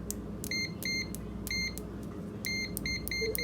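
An Etekcity A1000 multimeter gives its continuity test beep: several short, high electronic tones in clusters, fairly faint over a low background hum, with no speech.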